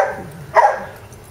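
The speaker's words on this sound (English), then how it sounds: "Quiet, big old Jack. You make too much noise." A big dog gives a single short bark at middle distance, a brief sharp burst over a quiet background with no talk.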